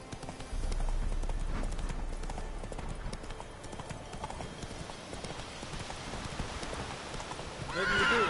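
Roach, a horse in The Witcher III, gallops with a steady, rapid clip-clop of hooves and gives a whinnying neigh near the end, with faint outdoor ambience underneath and no one speaking.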